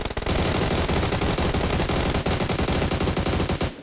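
Dense automatic gunfire erupts in a shooter video game, a loud, unbroken rattle of rapid shots that fills the whole stretch without pause.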